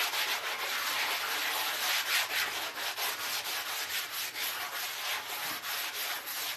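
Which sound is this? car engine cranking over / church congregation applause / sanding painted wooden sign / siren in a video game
sanding painted wooden sign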